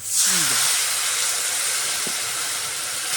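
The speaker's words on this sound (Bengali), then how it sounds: "মশলাটা একটু কষিয়ে নিই" Ground spice paste of cumin, ginger, red chili powder and turmeric hitting hot oil with onion and garlic in a pan, a loud sudden hiss that settles into a steady sizzle, heard close and without talk.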